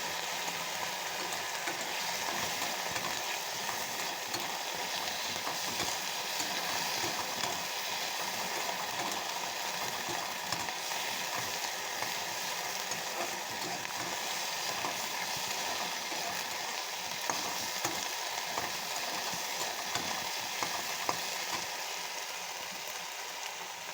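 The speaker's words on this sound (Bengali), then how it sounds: "কাঁচা লঙ্কা দেওয়াতে একটু কষিয়ে নিতে হবে, আর আদাটা দিয়ে দিলাম, একটু জল দিয়ে মিক্স করে।" Green chili and ginger frying in a pan with a splash of water, giving a steady, dense sizzle that hisses continuously and evenly throughout with no talk.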